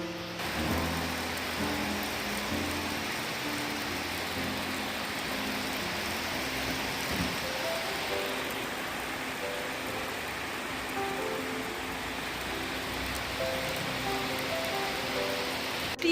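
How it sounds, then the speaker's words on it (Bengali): Steady heavy rain pours down outside, a dense continuous hiss with pattering drops, loud and unbroken throughout. "আর দেখো বাইরে ঝমঝমিয়ে বৃষ্টি চলে এসছে"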